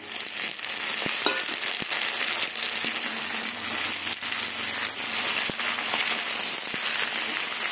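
Tomato, green chili and ginger sizzle in a pan with fried onion for a chicken and cabbage dish, a steady close broadband frying hiss running throughout with a few faint clicks of a spoon.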